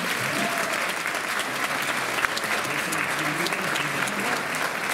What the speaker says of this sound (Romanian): Vă rog să-l aplaudați pe domnul Bozar.